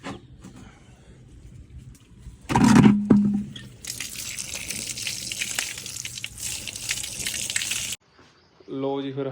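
Water pours in a steady rushing gush for several seconds, then stops abruptly; a brief voice follows afterward.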